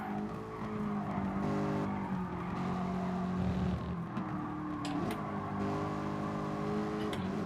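A race car in Gran Turismo Sport brakes hard, its tires squealing in sustained tonal whines over a steady engine drone, with the pitch of the squeal shifting as the car slows into the corner.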